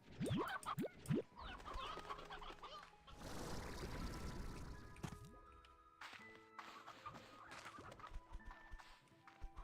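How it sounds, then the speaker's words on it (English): Chickens cluck in the video game Slime Rancher, a busy flock of short game clucks and squawks sounding close and moderately loud over soft game ambience, with a louder rustling patch in the middle. "Way too many chickens."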